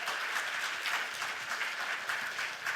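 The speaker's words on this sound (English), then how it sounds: "give a round of applause for the organizers for this event" An audience applauds the organizers at the HarvardXR 2025 event, a dense, steady round of clapping from a fairly large crowd that holds for the whole moment, with no talking over it.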